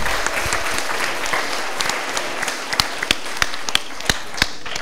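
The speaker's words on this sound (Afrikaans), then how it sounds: "Ons klap maar hande" A school audience applauds a grade 7 public-speaking competition winner: a steady bed of dense clapping, with sharper individual claps standing out near the end.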